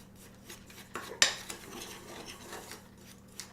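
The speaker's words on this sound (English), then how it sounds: "we'll just stir that together, and once that cornstarch cooks, it'll help to thicken up this caramel sauce." A spoon stirs caramel sauce thickened with cornstarch in a pot, giving quiet scraping and clinking against the pan with one sharper metallic knock, close and alone.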